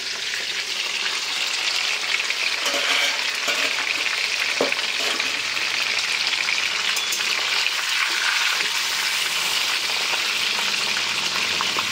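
Chicken pieces frying in a pan, a continuous bright crackling sizzle with some stirring noises, close and steady for the whole stretch, nobody speaking.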